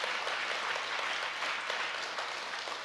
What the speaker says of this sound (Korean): 정말 박수 한번 쳐드리세요.